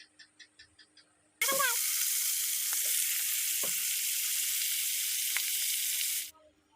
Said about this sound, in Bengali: এবার মাছের মাথাগুলোকে ভালো মতন ভাজতে থাকবো।